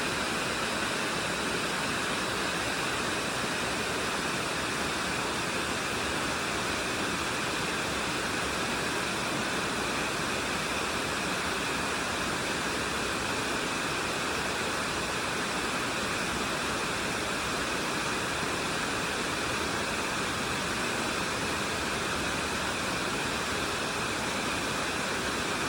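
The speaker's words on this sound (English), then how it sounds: "I'm just going to let you enjoy the falls now." A waterfall in Cuyahoga Valley National Park, heard from a viewing platform, rushes with a dense, unbroken roar of falling water that stays loud and steady throughout, with no voices.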